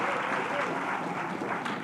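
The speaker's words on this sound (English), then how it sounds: "Give yourself a round of applause." An audience at a memory class gives a short round of applause, brisk moderate clapping lasting under two seconds.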